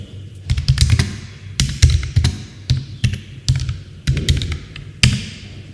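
Keystrokes clatter on a computer keyboard as a git command is typed, in short uneven bursts of crisp taps with brief pauses between clusters, close and clear with no talking.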